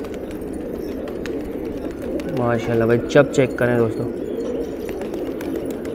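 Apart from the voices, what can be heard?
fighter pigeons cooing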